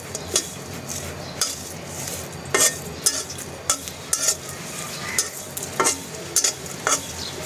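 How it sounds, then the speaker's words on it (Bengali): Dried red chillies fry in a pan with a soft, steady sizzle, while a utensil stirs and clinks against the pan in scattered sharp taps throughout. "আর এই যে এখন হচ্ছে গিয়ে শুকনা মরিচগুলো ভেজে নিচ্ছি"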